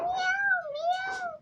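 A human voice imitates a cat's meow, one drawn-out rising and falling mew heard close and alone.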